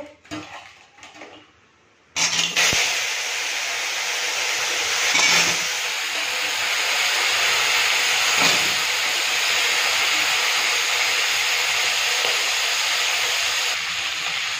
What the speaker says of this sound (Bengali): কাঁকড়াটা খুব ভালো করে ভেজে নিয়েছি।